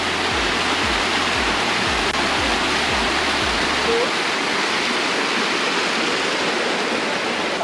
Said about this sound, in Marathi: मस्त सुंदर एक धबधबा आपल्याला पाहायला मिळू राहिला.